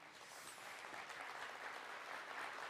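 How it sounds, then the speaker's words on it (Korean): Audience at the opening ceremony of a quantum information week gives sustained, even applause, heard faint and distant throughout with no speech. "큰 박수 부탁드립니다"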